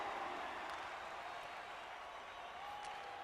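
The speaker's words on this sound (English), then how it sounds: "The crowd's still making a little bit of noise" A hockey arena crowd in NHL 22 keeps up a low, steady murmur of distant noise, fairly subdued and continuous throughout.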